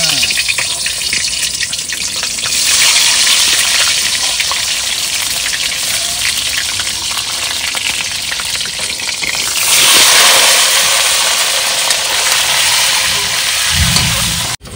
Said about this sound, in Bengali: এবার ডিমটাকে ভেজে নেবো।